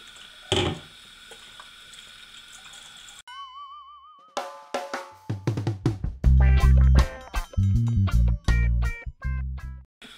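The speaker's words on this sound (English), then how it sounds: "I'm going to pour this in here." Liquid is poured into the plastic measuring cup of a hair steamer, a close series of gurgling, splashing glugs that grows louder and denser as the cup fills, after some earlier handling clatter.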